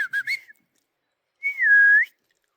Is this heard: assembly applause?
no